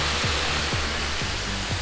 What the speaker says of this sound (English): we're going to pour the shot of Budweiser onto the meat. Let that evaporate.